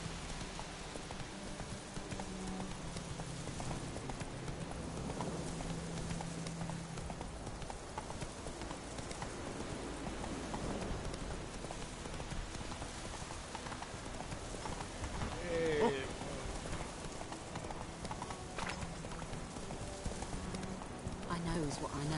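Geralt's horse Roach moving at pace in The Witcher 3, with steady rhythmic hoofbeats running throughout and spoken dialogue over the top.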